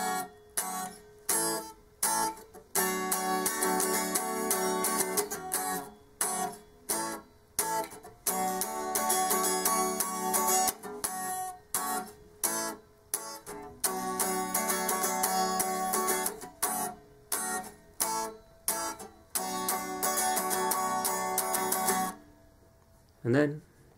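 Guitar strumming the chorus rhythm of a song, with steady, choppy strokes punctuated by brief muted gaps, loud and close, running about twenty seconds before stopping.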